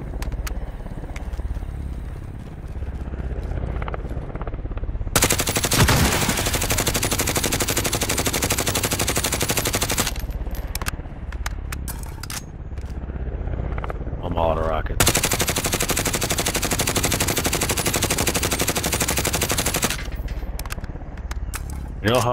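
Bursts of rapid machine-gun fire in a video game as a player shoots down an enemy, two long loud sustained volleys separated by shorter stutters, with a voice talking in between.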